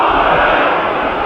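Rugby league crowd at a Warrington versus Salford match roaring in a loud, continuous, broad wash of massed shouting that holds steady throughout.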